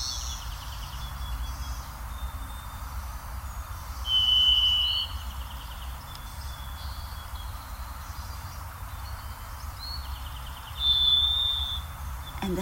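A distant fairy thrush sings two thin, high, whistled phrases several seconds apart over a low, steady background hum.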